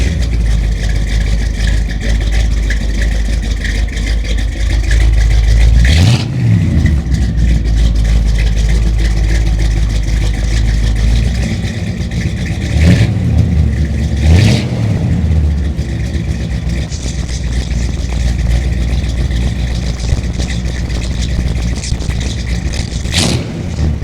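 A 1970 Buick Riviera big-block engine rumbles steadily at idle, with a few sharp revs blipping up and settling back down, loud and close throughout.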